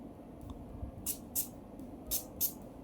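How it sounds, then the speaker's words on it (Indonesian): Four quick hissing bursts of Fox Sniff After Dusk extrait perfume sprayed from an atomizer, close and crisp, in two pairs over a faint room hum. "Gue semprot dulu ya."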